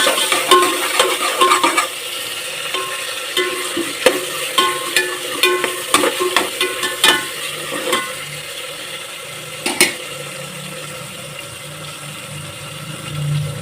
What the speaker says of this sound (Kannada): ಅದು ಸ್ವಲ್ಪ ಎಣ್ಣೆಯಲ್ಲಿ ಫ್ರೈ ಆಗಬೇಕು